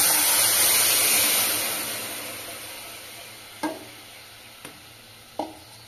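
Raw mango mixture with jaggery cooking in a wok, a broad steady sizzle that slowly fades, then a few sharp scraping knocks of a spoon stirring against the pan.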